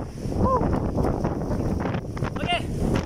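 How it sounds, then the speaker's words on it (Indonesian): Strong, sudden wind buffets the microphone outdoors beside a Raleigh AXO BMX bike, a steady broadband roar with gusts throughout, and faint tonal squeaks rising above it. "Angin kuat sangat ni. Secara tiba-tiba."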